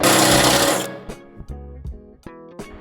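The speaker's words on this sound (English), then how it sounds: "you'll have to drill out this hole to 9/16 for the rib nut installation" A loud, steady whirring of a power drill boring a hole in metal runs for under a second, then stops, followed by a few short clanks and taps.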